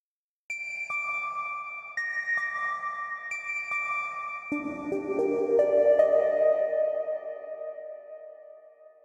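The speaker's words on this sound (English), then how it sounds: "So if you want a very long reverb in here, I can add up to 62 seconds." Bright synthetic tones ping one after another, each note lingering and blending into a long, washy reverb tail that slowly fades.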